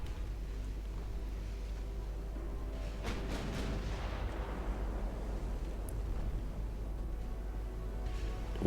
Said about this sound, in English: one salvo being 6 or 4 shots depending on whether my front turret has an angle